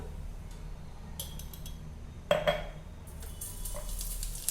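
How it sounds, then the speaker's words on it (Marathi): Cumin seeds go into hot oil in a pan, giving a short crackle and a few metallic clinks of spoon against the pan. The sounds are quiet and close over a low background hum. "थोडंसं तेल छान गरम झालेलं आहे आपण त्याच्यामध्ये आता जिरं घालूया एक चमचा"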